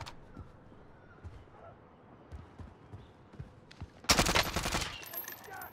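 A QBZ rifle fires in a video game: faint scattered shots at first, then a loud, dense automatic burst near the end. A voice talks quietly underneath.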